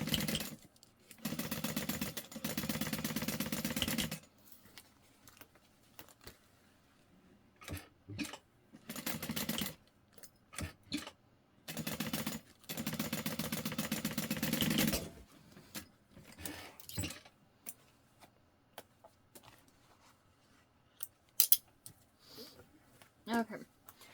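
Fabric pieces for a trick-or-treat bag run through a sewing machine, the motor buzzing in long steady bursts of a few seconds each, broken by pauses with small clicks and handling noises.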